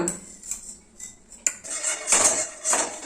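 A child cooking in a home kitchen cuts vegetables with a knife, giving a string of light, close metallic clinks and taps on a cutting board and utensils. The taps come irregularly, with a sharper knock midway.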